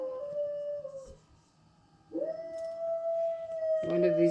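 A dog howls in long sustained tones along with a distant siren, one howl fading out before a louder, rising howl resumes and continues to the end.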